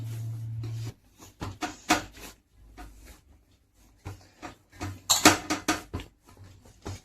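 Firm flour dough for dal battya kneaded by hand as water is added little by little, giving intermittent soft rubbing, pressing and slapping sounds with short quiet gaps between them.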